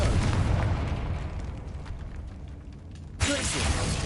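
A Confringo spell blast in Hogwarts Legacy on PS5 erupts as a loud, booming rumble that fades, then a second sharp burst strikes near the end.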